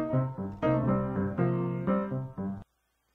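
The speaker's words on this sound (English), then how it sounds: "For this example, I've already got a piano loop up here in the timeline." Raw piano loop playing in GarageBand, a few bright sustained chords struck in a short rhythmic pattern, clean and dry without echo, ending abruptly into silence.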